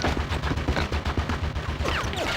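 Rapid, steady bursts of turret gunfire from Conker's Bad Fur Day, loud and close, pounding in a continuous rhythm throughout with sharp whizzing ricochet streaks near the end.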